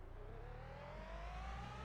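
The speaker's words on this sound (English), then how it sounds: "I hear a car coming." A race car in the iRacing sim approaches on a road course, its engine tone rising steadily as it draws nearer under a constant low drone from the player's own car.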